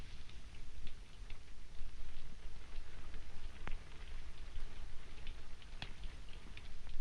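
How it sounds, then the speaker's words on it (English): Rain falls steadily, a dense patter of drops with a few sharper individual splashes standing out, continuous and fairly close, with no voices over it. "It's only the rain."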